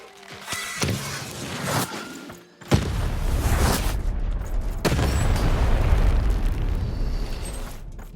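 Bombs summoned in the Lost in Random video game go off in two heavy, booming blasts, each sudden burst followed by a long rumbling tail, the second running to the end.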